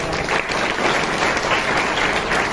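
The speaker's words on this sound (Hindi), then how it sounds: "ताली बजा के प्रभु का धन्यवाद" A church congregation claps in praise during a Hindi sermon, steady dense applause filling the whole stretch at close range with no speech over it.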